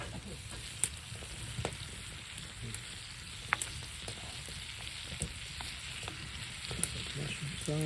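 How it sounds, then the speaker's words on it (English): Steak fries quietly in a pan with butter and mushrooms inside a hot tent during an Alberta hunt, giving a faint, steady sizzle with a few soft ticks and pops. "We're just going to set it in the pan with some butter and mushrooms."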